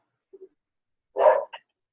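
A dog barks quietly indoors, a couple of soft yips followed by one fuller bark and a short trailing woof, with silence between them and no talk.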